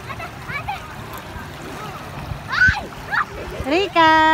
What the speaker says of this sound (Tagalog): Daming tao dito sa ilog.